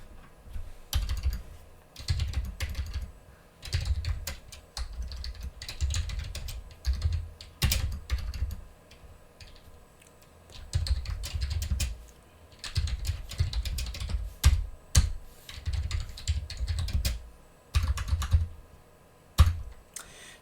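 Router configuration commands are typed on a computer keyboard in bursts of rapid, close key clicks separated by short pauses, with occasional sharper keystrokes standing out.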